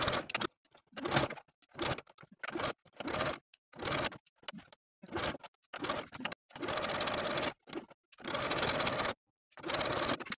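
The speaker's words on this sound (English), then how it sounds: "Then I'm going to take it to the sewing machine." A domestic sewing machine runs in repeated bursts of rapid stitching along the inner waistband seam of a dolman dress, with short pauses between runs, close and steady.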